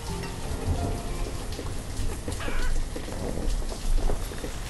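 A thunderstorm in the city-building game Banished: steady, dense rain patter with low rolling thunder rumbles swelling now and then, continuous throughout with no talking.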